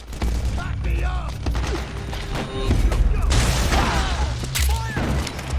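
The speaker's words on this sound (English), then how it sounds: "Suppressing fire!" Suppressing gunfire in the Metal Gear Solid 4 war game crackles as a dense, continuous fusillade of shots and booms, loud and close, with shouted voices under the battle noise.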